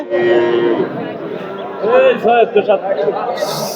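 A cow lets out a couple of low, drawn-out moos nearby at a cattle market, mixed with people talking in the background.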